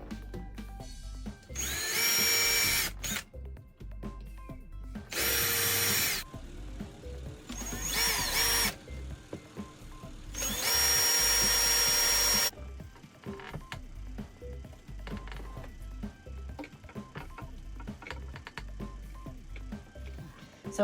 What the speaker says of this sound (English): Unfortunately, the holes don't line up, so drilling new holes.